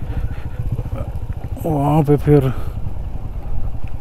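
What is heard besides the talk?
motorcycle idling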